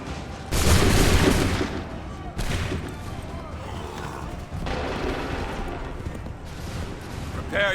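Gunfire in Assassin's Creed III, a massed volley of musket shots bursting loud at once, followed by further crackling shots and rumbling battle noise.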